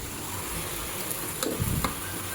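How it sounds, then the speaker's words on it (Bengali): Leafy greens with turmeric sizzle steadily in a frying pan while being stirred, giving a constant close hiss broken by a few soft scraping knocks of the spoon, with no voices. "তো এখন আস্তে আস্তে নেড়ে চেড়ে ভাজি করে নেব"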